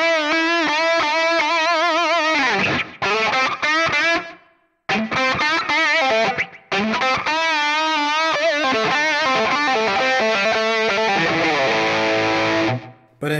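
Electric guitar pull-off phrases, played loud and sustained with distortion and long room reverb, with short gaps between repeated phrases and no talking.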